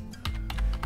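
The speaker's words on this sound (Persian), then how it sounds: "اینجا شما میایید و تایپ میکنید امتحان" A few quick keystrokes on a computer keyboard, light close clicks tapped in an uneven rhythm with no speech.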